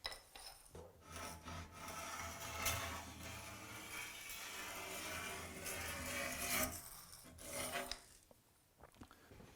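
A pencil or scribe rubs and scrapes along the bottom edge of a large tile in a series of close, rasping strokes with brief pauses, rising and falling in loudness, with no voices.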